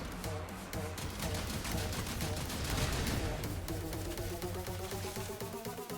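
The Kohm weapon fires continuously at enemies in a video game, a rapid, dense stream of gunshots with layered impacts and rattling, steady and fairly loud throughout.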